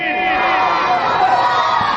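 A large crowd at a religious gathering shouts back loudly in unison after a takbir call, a dense, sustained roar of many voices lasting the whole moment.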